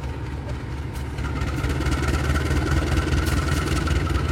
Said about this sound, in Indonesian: Kereta api Ijen Express dengan lokomotif CC 201-9211 berangkat dari stasiun Kalisat.